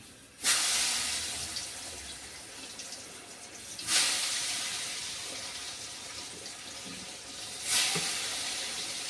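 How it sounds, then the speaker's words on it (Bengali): Food dropped piece by piece into hot oil on a lowered gas flame gives a steady hiss and sizzle, with three sharp bursts of crackle as each piece goes in. No one speaks. "তেল গরম হয়ে গেছে, গ্যাসটা কমিয়ে নিয়ে এবার একে একে ছাড়ি।"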